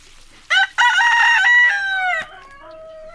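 A rooster crows on a farm: one loud, close cock-a-doodle-doo with a brief lead-in call, then it trails off into softer fading notes, with no other sound around it.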